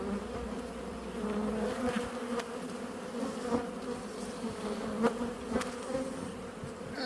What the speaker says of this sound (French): là on voit que les abeilles bougent, hein, mais elles sont pas vraiment agressives